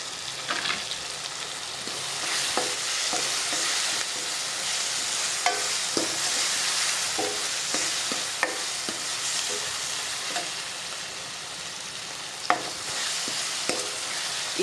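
Paneer bhurji with garam masala is stirred in a pan, with a soft continuous sizzle and frequent irregular scrapes and clicks of the spoon against the pan, close up with no talking.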